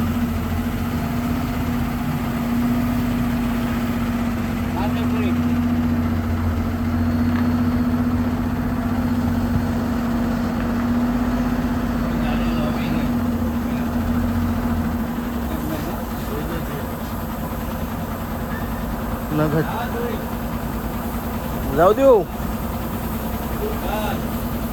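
A parked car's engine idles for a long stretch with a steady low drone, while people talk nearby and a few brief knocks come near the end.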